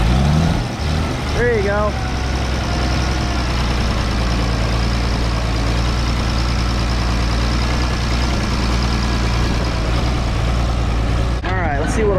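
A tractor engine idling in a low steady rumble during baling, running close and continuous throughout while people speak briefly over it.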